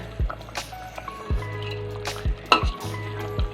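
Bitter gourd simmering in a bubbling kuzhambu curry in a pan, giving soft, regular low pops about once a second over a steady faint background hum.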